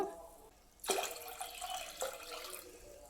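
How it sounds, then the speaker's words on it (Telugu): Water pours into a clay pot to cook dal, a close, steady splashing gush that starts abruptly and keeps running, with a brief gurgle partway through and no talking. "పప్పుని ఉడికించుకోవాలి కదా దానికోసం ఎసరు పోసుకుంటున్నాను"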